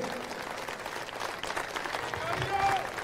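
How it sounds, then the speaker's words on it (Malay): Audience applause at a public political gathering in Sungai Rapat, Gopeng, a steady dense wash of many hands clapping throughout, with a voice speaking over it. "Bagi satu lagi tepukan kepada mantan menteri besar kita Datuk Seri Niza Jamaluddin."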